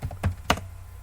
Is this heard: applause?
no